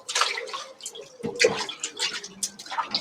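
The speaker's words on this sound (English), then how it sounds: "just going to wash my hands" Hands washed under a running tap in a home kitchen during bread and sourdough baking, a close, steady splash of water with small irregular drips and clatters, no voices.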